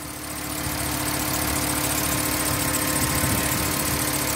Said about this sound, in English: start it up, let it warm up before you do your oil change